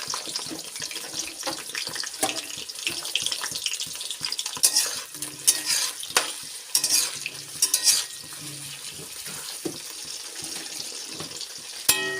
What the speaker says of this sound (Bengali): প্রথমে বেগুনটা ভেজে নেব।